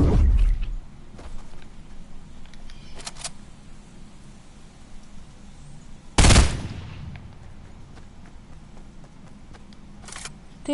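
Gunfire in the Fortnite Battle Royale video game: a few sharp, isolated shots spaced apart over a quiet background, with one loud burst standing out midway.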